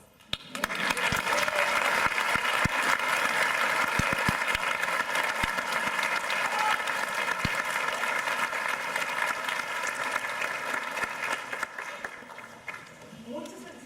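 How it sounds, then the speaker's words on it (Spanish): Applause at a tribute ceremony for Dr. Campuzano, a full round of clapping from a gathered audience with some voices mixed in, swelling early, holding for about ten seconds, then thinning out toward the end. "Aquí es donde ella aplaude."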